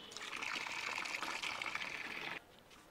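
Diluted liquid fertilizer water for a garden, made with rice-washing water and mixed at about 1:10, pours in a steady, fairly close trickle for over two seconds, then cuts off abruptly.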